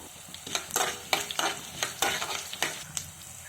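Fenugreek, mustard seeds, cumin and coriander seeds sizzle in hot oil in a pan, with repeated stirring scrapes cutting through the crackle at a steady rhythm, close by and moderately loud, no voices.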